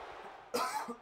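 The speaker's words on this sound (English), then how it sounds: "Got a cough" A single close cough, a short sharp burst followed moments later by the start of another, against a quiet background.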